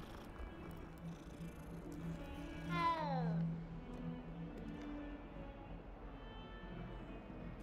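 A cat in Hogwarts Legacy gives one short descending meow midway, faint against quiet background tones and soft ticking.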